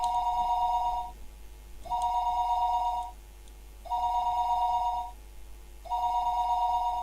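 A telephone rings in four long electronic bursts separated by short pauses, steady and clear with no talking, heard as a sound effect during a visual novel reading.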